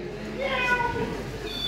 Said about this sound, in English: we've got a toy kitten here and it can make noise too